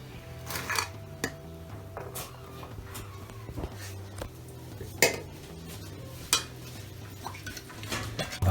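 Chicken peratal with coriander leaves stirred in a clay pot, a spoon scraping and clinking against the pot in steady repeated strokes over a faint sizzle, close and moderately loud.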